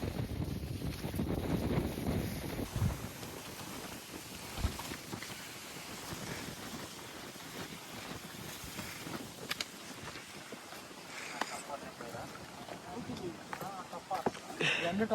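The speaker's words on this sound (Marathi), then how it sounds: "एवढं जोरात वारा आहे ना की असा माणसाला मागं ढकलाले" Strong wind gusting across the hilltop at Sinhagad fort, buffeting the microphone with loud, continuous rumbling that is heaviest at the start and keeps up throughout, while a person talks over it.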